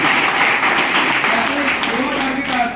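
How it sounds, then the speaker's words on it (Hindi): An audience claps for winners at an award gathering, a dense, steady round of clapping with voices and cheering mixed in throughout. "चलो इन दोनों के लिए जोरदार ताली बजाओ।"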